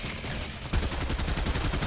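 Submachine gun fire in Fortnite starts abruptly as a rapid, steady stream of close shots, evenly spaced and sustained, following a quieter stretch of background game sound.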